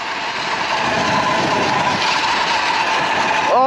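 A Sur-Ron electric dirt bike accelerates hard from mid-range. It gives a steady, loud, broad whirring rush with wind noise, and a rising whine swells in right at the end.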